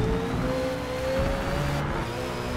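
Race car in a video game, driven hard with an upshift into second gear at full throttle; a steady, loud engine drone with a rising tone runs throughout, with no talking.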